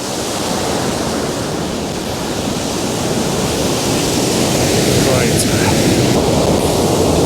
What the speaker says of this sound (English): What I've got is this raging torrent here